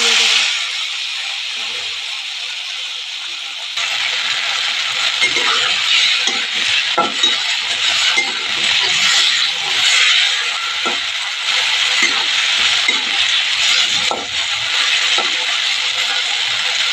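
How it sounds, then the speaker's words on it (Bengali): Boiled Maggi noodles fry in hot oil and get stirred, giving a loud, continuous close sizzle that jumps up after a few seconds, punctuated by scraping and clicking stirring strokes. "ম্যাগিটা এবার ভেজে নেব"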